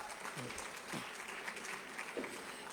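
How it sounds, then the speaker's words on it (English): Brief, quiet applause from a conference audience for the panelists at Global Expo Botswana 2025, with voices speaking over it. "Please, another round of applause for Samantha and the panelists, please."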